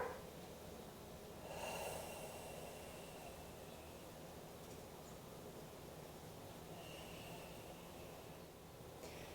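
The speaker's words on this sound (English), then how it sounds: "So everybody take a deep breath." A single slow, deep breath drawn in during a guided meditation healing session, soft and close, rising briefly over a steady quiet hiss before fading back into the background.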